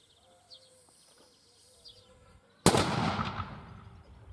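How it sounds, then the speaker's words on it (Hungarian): One-pound 1848 artillery cannon firing outdoors at a castle event, a single sudden loud blast after quiet murmuring, followed by a long rolling decay. "ő fogja elsütni az egyfontos 1848-as tüzérségi ágyút"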